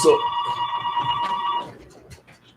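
A phone rings in a morning radio show studio, one loud electronic ring burst that stops abruptly partway through, followed by quieter room noise.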